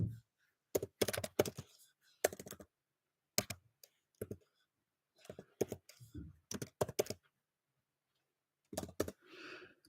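Keys clattering on a computer keyboard in short bursts of quick clicks separated by pauses, close and fairly quiet with no talking.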